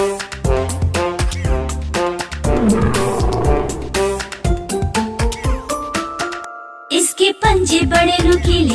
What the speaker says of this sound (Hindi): उसकी एक दहाड़ सुनकर भाग जाए सब